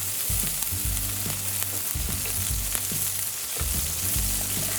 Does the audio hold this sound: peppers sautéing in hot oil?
yes